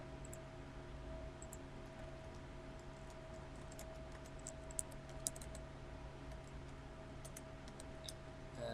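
Someone types on a computer keyboard during a web front-end design lesson, producing faint, close, irregular key clicks over a steady low hum.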